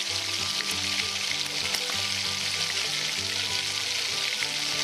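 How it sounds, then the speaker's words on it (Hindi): Cumin seeds, whole garam masala spices and dried red chillies frying in ghee for a Pakistani degi chana pulao, giving a steady, close, dense sizzle with faint crackles and a low hum throughout, no voices. "अब ज़ीरा शामिल कर रही हूँ ताकि ये घी में थोड़ा सा फ्राई हो जाए।"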